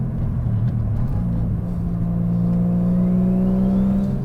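A 720bhp three-rotor swapped Mazda RX-7 idles and blips its throttle close by, a steady buzzing rotary drone that swells and rises slightly in pitch, loud and continuous with no talking.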